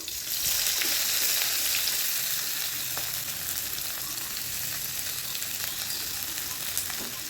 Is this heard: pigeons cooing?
no